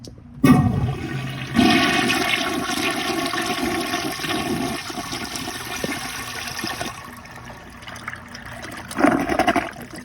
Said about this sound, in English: I would have never thought I would have tested one of these toilets on the flushometer